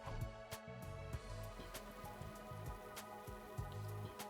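Rain falling in The Hundred Line, a soft, steady patter with scattered sharper drops over a low sustained musical drone, faint and continuous.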